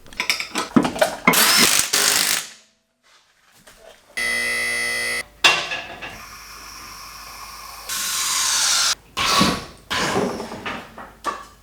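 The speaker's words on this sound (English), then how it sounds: "These quick jacks are just absolutely game changing." A QuickJack car lift lowering a BMW E36 M3 with an LS1 engine swap, giving bursts of loud hissing and a buzzing electric pump whine separated by short pauses, close by with no talking.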